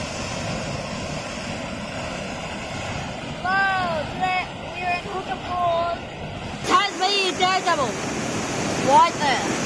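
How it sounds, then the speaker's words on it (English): Rushing river water at Huka Falls near Taupo, New Zealand, forms a steady broadband roar that runs throughout, with people talking over it for most of the clip. "water creates a dangerous undertow at the bottom of the falls"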